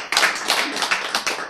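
A live audience at a Korean health lecture on stretching claps together, a dense patter of many hands with bursts swelling and fading over a short stretch, fairly close and with no talking over it.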